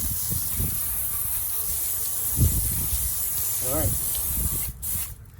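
A water spray rinses a car rim during wheel detailing, a steady close hiss of the spray running throughout, with someone briefly speaking over it.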